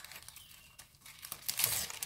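A parcel is unwrapped by hand, with its plastic packaging crinkling in short rustles that grow louder and denser toward the end, close and otherwise quiet.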